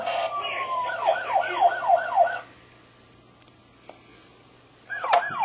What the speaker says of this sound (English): You gonna play with your police car?